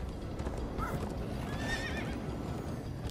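Horses in the Minecraft Story Mode game whinny in a couple of shrill neighs over a dense, busy background of hoofbeats and rumble, fairly close and without speech.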